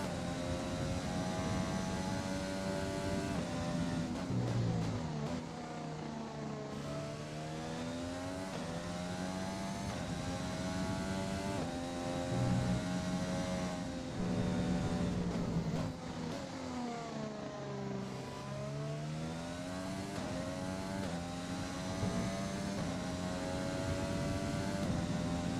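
A Formula 1 car engine in the F1 2020 racing game roars steadily for the whole stretch, its pitch climbing and falling through gear changes, loud and continuous with no talking.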